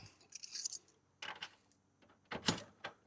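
Metallic jingling of keys in bursts, with three separate rattles and short pauses between them, close by, as a hiker trailer is unlocked.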